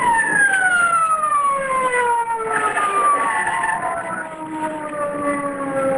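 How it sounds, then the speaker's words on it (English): A loud siren wails with falling, sliding tones, close and continuous, its pitch gliding downward as if passing by. "Police car."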